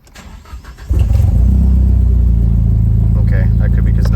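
A Nissan S13 engine, just fitted with a fuel upgrade, cranks and catches at about one second, then settles into a loud, steady low rumbling idle close by.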